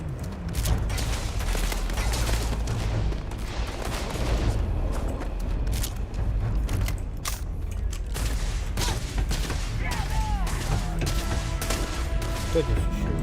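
Gunfire in the space game Starfield: rapid bursts of shots and impacts rattle through a dense, noisy battle mix, loud and continuous with scattered sharp cracks and no clear talk.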